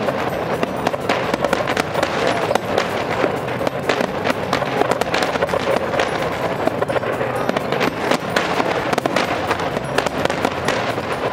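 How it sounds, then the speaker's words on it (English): Dense, continuous crackling and popping of Canada Day fireworks in Halifax, with many overlapping bursts and sharp bangs filling the whole stretch, loud and close. "Look at the fireworks."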